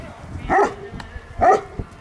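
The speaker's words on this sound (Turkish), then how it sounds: "Köpekler burada." Kangal dogs give two distinct barks about a second apart, loud and fairly close, over a quiet outdoor background.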